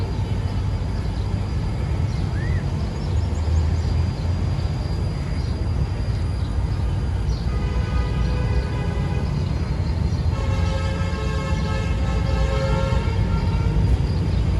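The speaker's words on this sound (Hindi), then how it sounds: "KCR 2 डाउन रवाना हो रही है मलिर कॉलोनी से" A KCR train pulls out of Malir Colony station with a steady, loud rumble of wheels and engine, and a tonal hum rises as the GMU locomotive begins to accelerate.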